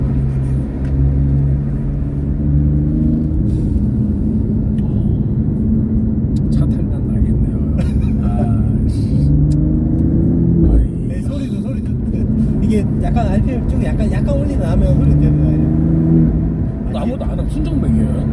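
Stock exhaust of a BMW M4 heard from inside the car on a late-night drive, a loud droning engine note that rises and falls as it revs, with people talking over it.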